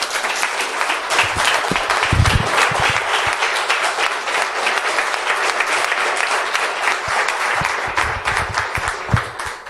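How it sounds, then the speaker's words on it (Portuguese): A church congregation standing to applaud during a homily, loud and sustained clapping from many hands filling the room continuously and evenly throughout. "Eu quero que você de pé aplaude essa palavra."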